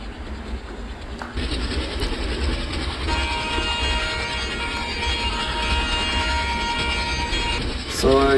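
Simulated passenger express in Microsoft Train Simulator rolls steadily with a low rumbling drone and rail clatter, a sustained tonal whine running through the middle, and a brief horn-like blast near the end.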